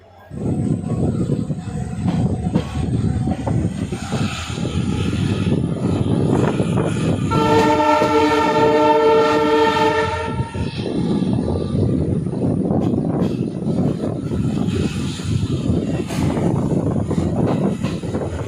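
A superfast passenger train departs Sadulpur Junction with a loud continuous rumble of wheels and carriages, broken by a long sustained horn blast midway, heard close and alone.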